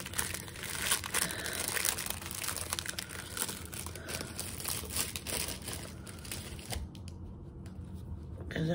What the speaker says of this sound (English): I'll give you a closer look once I take it out of the wrapper